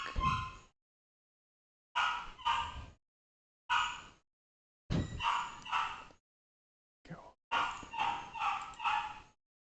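A dog barks in short, separate bursts with silent gaps between them. The barks are close and loud, and there is no talk.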